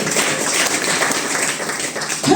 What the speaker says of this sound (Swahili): Pigia tena Yesu makofi.